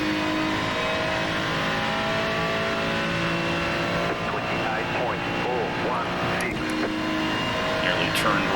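Ferrari 296 GT3 race car engine in iRacing at Indianapolis Motor Speedway, droning steadily with rising and falling revs amid other cars, and a voice talks over it.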